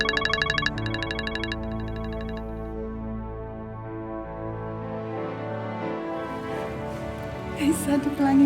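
An outgoing phone call rings through a handset: tone bursts at the start, then a long electronic ringback tone with a fluctuating melody, ending in a few louder clicks.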